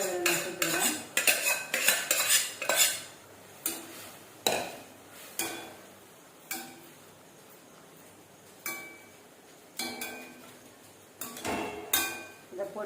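A metal spoon clatters and scrapes against a pan as boiled chickpeas are added and stirred, producing irregular close clinks and knocks in uneven bursts with quiet gaps between them.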